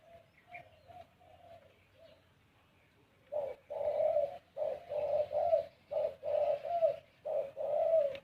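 Decoy doves from Korat, Thailand, coo in a close, loud series of repeated rounded calls, softer at first and then steady, rhythmic phrases with short gaps between them.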